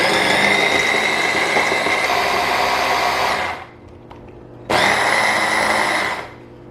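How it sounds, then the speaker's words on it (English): A Kelitos 5-piece blender runs on turbo chopping onion, a loud high-pitched motor whine sustained for about three and a half seconds, stopping briefly, then roaring again in a second burst before cutting off. "I'll increase the speed over here and then I'll use the turbo"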